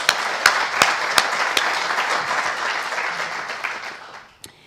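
A large audience gives a sustained round of applause for panelists after remarks on conflict-related sexual violence, a dense wash of clapping with a few sharp claps standing out before it fades.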